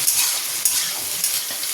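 Ivy gourd (kundri) frying with spices in a pan, a steady close sizzle with occasional stirring scrapes over about two seconds, no voices.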